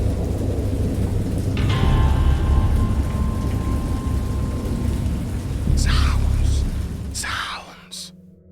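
Heavy rain with rolling rumbles of thunder in a wild storm, a constant low roar with a few brighter crackling bursts, then abruptly cut off near the end.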